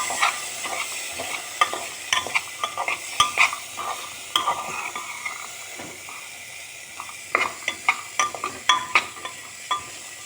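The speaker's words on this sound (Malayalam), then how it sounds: "ഗ്രീൻ പീസ് നന്നായി ഒന്ന് ഇളക്കുക." Green peas stirred in a frying pan: repeated spoon scrapes and clicks over a constant sizzle, close and fairly loud, in uneven bursts.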